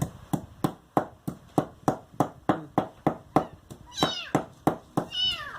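Fast rhythmic thumps or taps repeat steadily throughout, with two short high-pitched kitten mews breaking in near the end.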